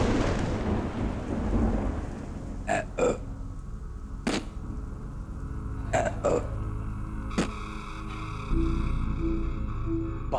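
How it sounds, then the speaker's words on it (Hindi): Heavy rain patters beneath low, rolling thunder, broken by several sharp, isolated cracks and knocks spread across the storm. "बारिश की ये मोटी मोटी बूंदें गिरना चालू"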